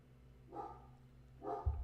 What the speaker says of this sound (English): And my dog agrees.